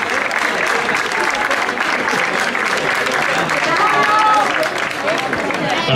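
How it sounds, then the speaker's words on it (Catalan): Audience applause for the winners at a trophy and prize ceremony after an airport running race, steady dense clapping throughout with some voices and crowd noise mixed in. "Aplaudiments pels guanyadors"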